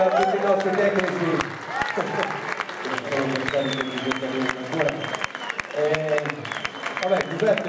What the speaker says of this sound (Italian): un applauso anche a tutti i nostri tecnici.